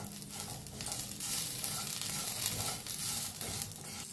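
Coriander and curry leaves sizzling in a hot pan, a soft, steady crackling hiss with occasional stirring scrapes, fairly quiet and close, without speech.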